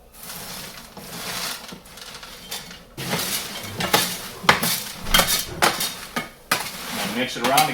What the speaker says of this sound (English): Mix it around to get all the kernels to the bottom.